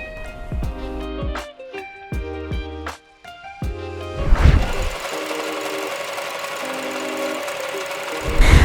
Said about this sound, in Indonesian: kita jahit sekelilingnya terlebih dahulu ya teman-teman